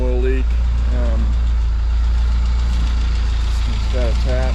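A Jeep Comanche engine with an oil leak idles loud and steady close by, under a low rumble, while someone talks in short bursts over it.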